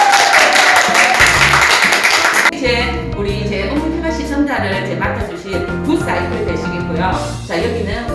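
Audience clapping at a signing ceremony for a gathering of local YouTubers in Gimhae: dense, loud applause for about two and a half seconds, then cutting to music with a voice speaking over it.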